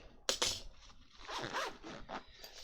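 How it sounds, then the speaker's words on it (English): A knife slicing open a cardboard delivery box: a sharp initial rip followed by a rough, continuous tearing scrape that comes in uneven strokes, close and fairly quiet. "Grab the knife out and we'll cut it open and see what we got."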